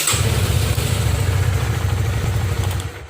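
Honda CB150R motorcycle engine catching right away with no injection delay, then running at a steady, close, loud idle with a low throbbing pulse throughout.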